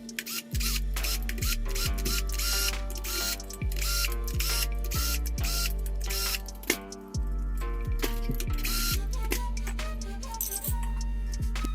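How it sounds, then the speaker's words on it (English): Bolts being loosened to take the cover off an A20 transmission, a steady run of quick mechanical clicks and ratcheting ticks repeating close by with no talking. "So I'm going to proceed to take this cover off."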